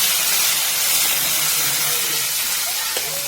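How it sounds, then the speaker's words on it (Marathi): Cumin and mustard seeds crackle and sizzle in hot oil for a vegetable dish, a loud continuous hiss close up with small pops scattered through it. "बघा जिरे मोहरी टाकून आणि चांगली तडतडून पण दिली"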